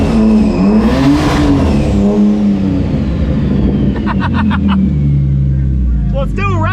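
A 650hp car engine idling and revving loudly on a hoist, a steady close roar with rising and falling pitch while people talk over it.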